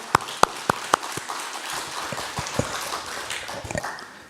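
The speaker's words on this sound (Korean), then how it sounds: "우리 감사의 박수, 하나님께 영광의 박수 한번 다시 하겠습니다" A church congregation at a Sunday service claps in thanks after the choir: a few sharp, loud claps open, then thinner, scattered clapping trails off unevenly.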